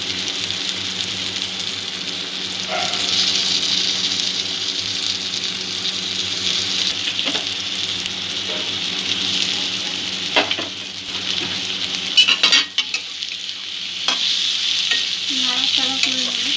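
Sandwich filling ingredients frying with boiled potato in a pan: a continuous loud sizzle with occasional scraping and stirring clatter from a utensil, no talking.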